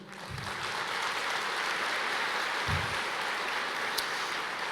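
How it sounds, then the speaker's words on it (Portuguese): Audience applause inside a church, a steady dense wash of clapping that holds evenly for several seconds at moderate loudness, with no voices standing out. "Pode aplaudir."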